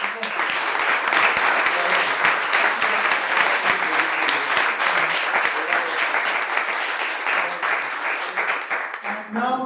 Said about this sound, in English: A big round of applause for the founders and to each other.